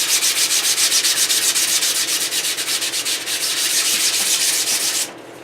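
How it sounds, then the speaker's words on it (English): Rhythmic back-and-forth rubbing of 400-grit sandpaper over doped aircraft fabric on a Taylorcraft restoration test board, quick even strokes close up and alone, stopping abruptly near the end. "I've got some 400 grit sandpaper. I'm just doing the final little sand down just to get rid of any little nubs."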